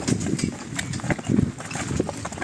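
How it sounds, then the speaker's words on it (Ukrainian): Breton mare walking with a steady clip-clop of hooves, close and moderately loud, mixed with some rattling and background noise. "Це кобила йде, як має."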